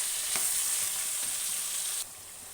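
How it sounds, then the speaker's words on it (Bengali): Sliced ridge gourd and potatoes fry in a pan with a steady, bright sizzle, a couple of stirring scrapes, then the sizzle drops quieter toward the end; nobody speaks. "এবার হালকা করে একটু ভেজে নেব"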